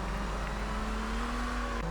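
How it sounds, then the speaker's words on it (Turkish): Car engine in the video game GTA Vice City Stories, a steady droning hum that holds one pitch, creeps slightly higher, then drops abruptly near the end, loud and continuous with no talking. "Bu arabanın sesi böyle değil ya."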